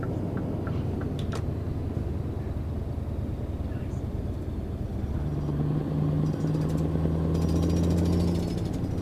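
Roadworks on the left side of the road in Euro Truck Simulator, a steady jackhammer-like rattle with engine rumble under it, loud and continuous throughout.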